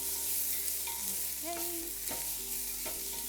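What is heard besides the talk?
stirring food frying in a pan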